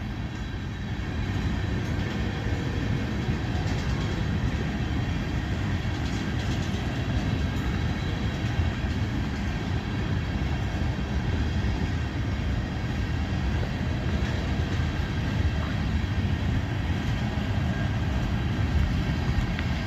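A CSX freight train led by the No. 1900 Seaboard Air Line heritage locomotive rumbles past close by, a steady, loud, continuous roar of rolling cars and wheels on rail sustained throughout with no talking.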